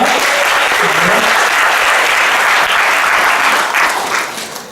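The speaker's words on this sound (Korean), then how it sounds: "우리 다시 한번 수고하는 수영아에게 박수 한번 합시다" A room full of people applauds loudly and steadily during a church youth worship service, the clapping holding strong before tapering off at the end.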